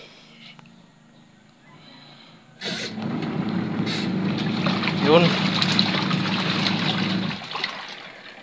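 A steady broadband whir of a washing machine running on a solar power converter starts abruptly and continues loudly, with a person speaking briefly before it begins.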